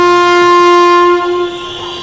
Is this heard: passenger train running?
yes